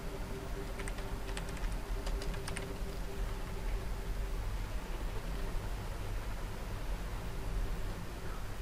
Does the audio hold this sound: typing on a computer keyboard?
yes